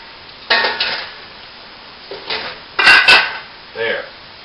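Kitchen pot handling as a lobster is added and the lid replaced: several sharp metallic clanks and scrapes spaced out over a few seconds, close and loud against a quiet background.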